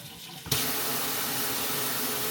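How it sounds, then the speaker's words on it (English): A GROHE Eurosmart dual-spray pull-out kitchen faucet sprayer switches on with a sudden loud hiss of water, then sprays steadily and forcefully, close up and alone. "So to stop the sprayer, you simply just slow it down."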